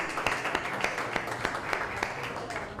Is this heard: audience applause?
yes